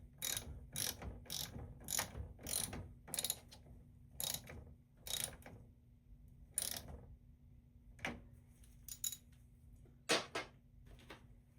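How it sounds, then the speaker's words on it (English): A ratchet with a 10mm socket tightens the negative battery cable clamp on a 2016 Toyota Corolla, giving close rapid clicking bursts followed by a few slower, separate clicks. "reinstall the negative cable, make sure it goes all the way, and secure it with 10mm socket or wrench."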